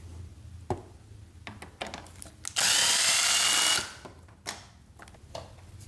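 A power tool whirs steadily for about a second while removing side fairing bolts on a Yamaha R6 motorcycle, with quieter clicks and handling knocks before and after.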